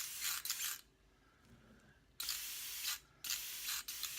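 A spray can mists a light tack coat of primer onto a painted model figure in three short hissing bursts, close and fairly loud, with quiet pauses between them and no talking.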